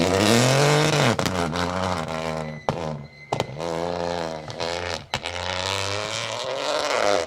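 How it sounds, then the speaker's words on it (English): A Lancia Ypsilon Rally 4 rally car passes close and loud during the RAC Rally, its engine revving hard with its pitch climbing and dropping between sharp gear changes. "This could be one of the Lancia Ypsilons"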